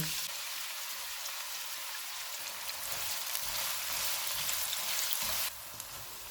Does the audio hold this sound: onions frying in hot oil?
yes